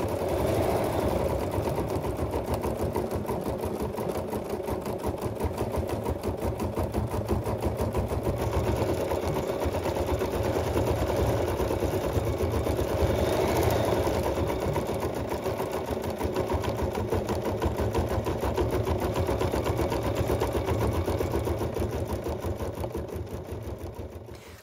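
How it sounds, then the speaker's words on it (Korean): An embroidery sewing machine runs steadily, its needle stitching in a fast, even mechanical rhythm while the hoop moves under program control, producing a continuous, close, fairly soft whirring and chattering hum with no voices. "자수를 놓을 때 왼편에 있는 저 기계가 수틀을 프로그램대로 움직이면서 수행을 하고 있는 거고요"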